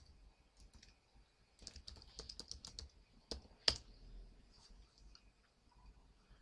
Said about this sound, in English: make sure you type sudo sh rails